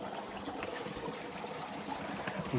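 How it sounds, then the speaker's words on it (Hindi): Water trickles and gurgles steadily from a spring at a forest shrine, a faint, continuous wash with no voices. "ये देखिए आवाज़ आ रही है किस तरीके से पानी निकल रहा है।"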